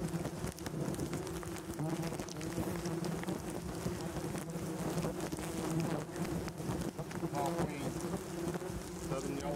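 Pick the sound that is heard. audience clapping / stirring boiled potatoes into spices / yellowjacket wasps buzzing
yellowjacket wasps buzzing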